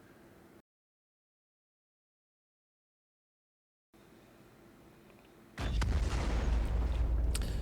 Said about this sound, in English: Okay, second explosion.